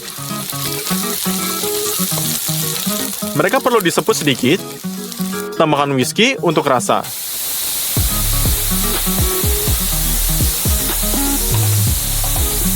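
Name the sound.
mushrooms frying in a pan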